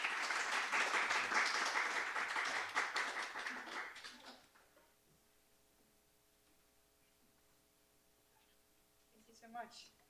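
An audience at a Politics and Prose bookstore talk applauds steadily for about four seconds to welcome the guests, then the clapping dies away into a quiet room with a faint voice near the end.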